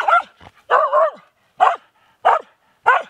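A hunting dog on a November grouse hunt in a Finnish forest barks close and loud, five sharp barks in uneven rhythm with short gaps between them.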